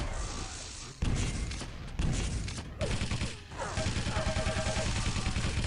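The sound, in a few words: railgun shots in a video game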